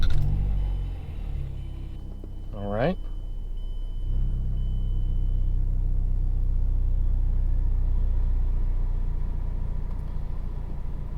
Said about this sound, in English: So we're gonna go ahead and start the car, see how it feels.